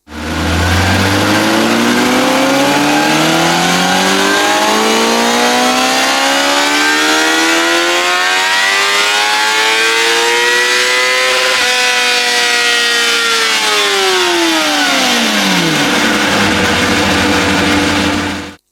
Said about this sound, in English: And here's the amazingly talented Andy firing the CBR onto the dyno and running it up with a steady hand